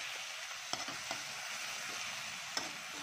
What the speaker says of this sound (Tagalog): mga 2 minutes natin siyang igigisa-gisa sa mantika